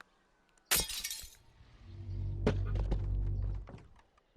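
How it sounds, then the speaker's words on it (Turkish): A glass window shatters in the game Hello Neighbor: one sharp, bright crash is followed by a low rumbling thud and scattered tinkling fragments. "Camı kıymayı becerdim."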